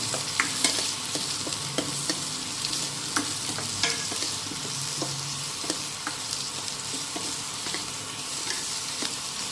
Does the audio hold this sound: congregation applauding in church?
no